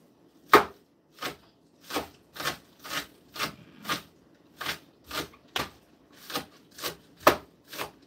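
A kitchen knife chopping scallions on a cutting board, about fifteen crisp, evenly spaced chops in a steady rhythm, close and clear with no voices.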